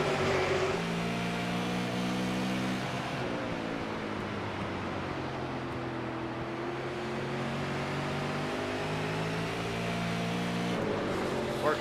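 Super Late Model race cars circling the Nashville Fairgrounds track, a steady loud engine drone with harmonic tones that rise and fall as cars pass, continuous through the whole stretch.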